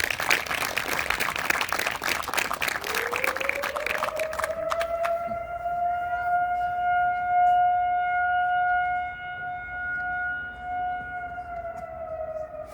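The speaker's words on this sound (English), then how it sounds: "let's give a quick round of applause to all those people" A crowd claps loudly for about four seconds at a child care center ribbon cutting, then the applause fades as a steady rising-and-falling siren tone takes over.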